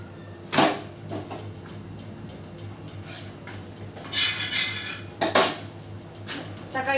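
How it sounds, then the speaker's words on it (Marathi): Pots, dishes and cutlery washed by hand: steady scrubbing and rubbing broken by a few sharp metallic clanks as utensils knock together, close by. "आता भांडे घासायचे राहिलेत अजून."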